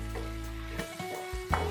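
Large onions fry in a pan for prawn masala curry, a low steady sizzle joined by a few soft stirring scrapes and knocks, quiet and close with no talk.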